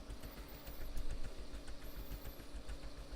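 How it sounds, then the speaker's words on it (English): A gas engine runs in the Scrap Mechanic game, straining to torque against an opposing electric motor, giving a steady low rumbling drone that holds throughout without any talking. "So this engine tries to torque, but it just doesn't have enough."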